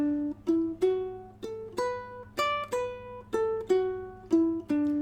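Ukulele picks out a pentatonic scale note by note in a long-short swing rhythm, each plucked tone clear and close, with no voices.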